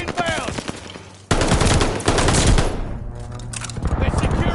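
Rapid automatic gunfire from a hostile strafing run in a Call of Duty match, loud bursts of rattling shots filling the scene after a short stretch of voices, with a steady roar continuing beneath.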